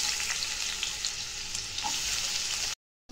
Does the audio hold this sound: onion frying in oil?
yes